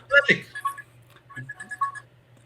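A Halloween-themed phone ringtone plays a short run of bright, repeating melodic tones at moderate volume, with a person talking at the start and again partway through.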